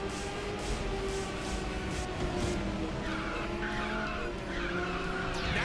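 Tires squeal loudly and continuously as a car skids through a drift in the Ridge Racer 6 video game, with the engine roaring steadily underneath.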